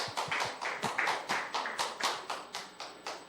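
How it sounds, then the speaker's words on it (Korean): Children at a Korean elementary Sunday worship service clap together, a sparse set of about a dozen distinct claps in a loose, slightly uneven rhythm, fairly quiet and close, with no voices. "자, 우리 박수."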